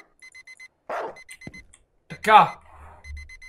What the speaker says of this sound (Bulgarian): Аларма! Спри, бе!